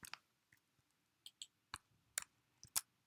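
A series of sharp, isolated computer keyboard key clicks, about ten of them at irregular intervals, close and fairly quiet against a silent background.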